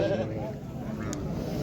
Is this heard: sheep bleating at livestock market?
yes